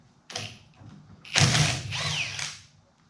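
Mechanical clanks and a ratcheting, creaking grind from work on the flywheel of a 1950s Johnson Seahorse 3hp outboard motor, a brief knock followed by louder close scraping and clicking bursts with no talk.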